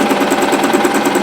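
A Singer Promise sewing machine stitches fabric in a steady, rapid mechanical chatter, loud and close, running continuously without talk.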